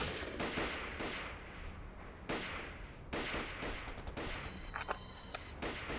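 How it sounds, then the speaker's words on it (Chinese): Gunfire in a war film echoes from a hillside across the way, a series of sharp cracks and bursts in irregular volleys, fairly distant and reverberant, with some rapid clustered shots near the end. "枪声是从对面山坡上传过来的。"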